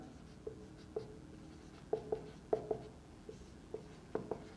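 Pen scratches on paper while working out a maths solution, a faint sequence of short ticks and strokes coming close together in small clusters.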